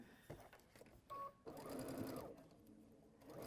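A sewing machine stitches a quilt block in short bursts, with a steady run in the middle and quieter stops in between. The sound is close and moderately loud, and there is no talk.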